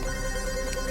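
A telephone ringing with an incoming call in a Telugu film scene, a steady continuous ringtone filling the short moment with no one speaking over it.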